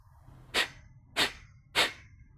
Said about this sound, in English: a quintessential practice called Kapalabhati breathing or breath of fire